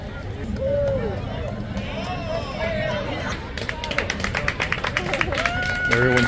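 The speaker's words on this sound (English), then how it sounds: "Everyone's cheering for the Republican committee." A crowd cheers and claps for the Republican committee on a Maine road trip, a scattered patter of applause building toward the end, heard near and under talking voices.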